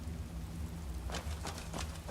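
A constant hissing, rain-like wash in Skyrim with the Requiem modlist, tied to sun damage, running steadily at a low level with faint crackles and no speech.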